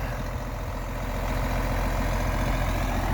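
An old 1979 John Deere farm tractor idles nearby, a steady low diesel rumble that holds even and continuous throughout with no talk over it.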